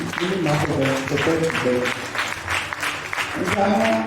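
A church congregation claps through a worship service, steady rhythmic applause mixed with voices singing or calling out over it.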